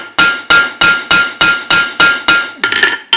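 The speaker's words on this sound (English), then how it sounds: "If you need to move the steel, say you need to move it this way, you just turn your hammer." Hammer forging a hot steel bar into a basic leaf shape on an anvil, with eight sharp, evenly spaced ringing blows followed by a quicker cluster of lighter taps, loud and close with no talk.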